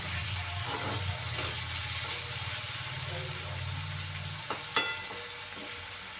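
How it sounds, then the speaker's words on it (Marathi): Two tomatoes sauté in hot oil in a pan, a steady close sizzle with a low hum underneath and a couple of brief clinks of a utensil near the end. "इथे मी दोन टोमॅटो घेतले आहेत टोमॅटो पण छान तेलामध्ये परतून घेऊया"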